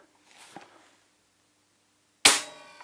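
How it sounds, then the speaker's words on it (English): A Hatsan Flash 101 side-lever precharged air rifle dry fires: a soft mechanical click of the action, a pause, then one sharp, loud snap that rings briefly and fades, all close up. "Let's do a little safe dry fire on this."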